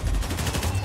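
Turret gunfire in Marvel's Spider-Man Remastered sounds as a brief rapid burst of shots, loud and close, with no talk over it.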